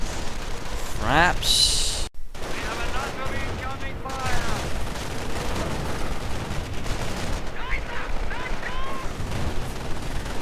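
Riflemen trade bursts of gunfire while artillery booms in a real-time strategy game match, with sharp shots and heavy thuds running through the clip beneath continuous excited commentary.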